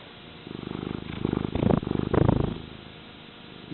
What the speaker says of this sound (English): Can I hear you purring?